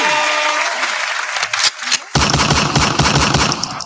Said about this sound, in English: Can we have some claps